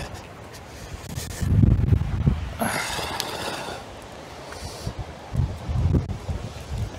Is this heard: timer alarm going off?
no